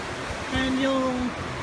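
Rushing spring white water of Grave Creek near Sunny Valley, Oregon gives a steady broadband roar, while a voice talks over it briefly.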